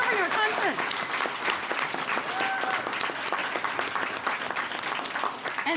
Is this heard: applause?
yes